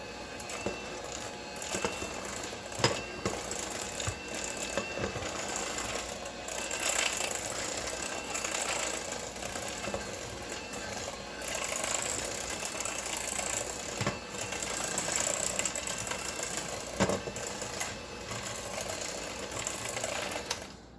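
An electric mixer churns protein patty dough for feeding bees, a continuous whirring motor hum with small rhythmic knocks, steady and fairly close, with no talking.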